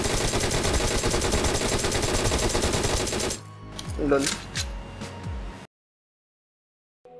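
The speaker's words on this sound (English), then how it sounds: "When you kill an enemy or fire at someone, you will make a gunfire sound which will reveal your intel or location." Rapid automatic gunfire in the mobile game PUBG Mobile, a dense loud burst of shots lasting about three seconds, followed by a few scattered single shots and then silence.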